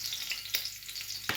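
Garlic frying in a little hot olive oil, a soft continuous sizzle with a couple of brief utensil taps, fairly quiet and close.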